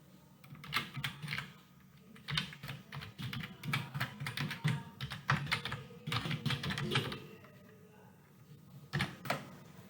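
Keys on a computer keyboard clack in short irregular bursts of typing, fairly quiet and close, as text is added to a GitHub README file, with pauses between runs.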